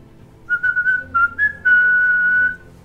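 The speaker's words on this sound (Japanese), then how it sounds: "口笛" A person whistles a short, clear tune alone: several quick, bright notes, then one long held tone, loud and close.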